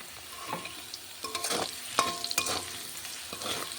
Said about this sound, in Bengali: আলুটা ভাজা হয়ে গেছে এবার হলুদ দিয়ে দেওয়া হয়েছে